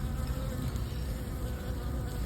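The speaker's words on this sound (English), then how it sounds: "Oh, there's the yellow jacket." A yellow jacket wasp buzzes steadily near a honeybee hive, a close, continuous insect drone with no pauses.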